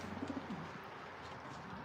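Soft, low pigeon coos repeat near the start, then fade into a steady background hum.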